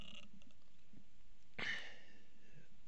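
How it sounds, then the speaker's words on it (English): A single short, bright burp erupts partway through an otherwise quiet moment, close and brief, standing alone over faint background hiss. "I wasn't welcoming you to a burp"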